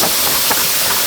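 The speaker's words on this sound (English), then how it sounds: "Alright, that's a steady stream of steam." Steam venting steadily from a pressure canner holding navy bean soup, a continuous close, loud hiss with no breaks and no talking.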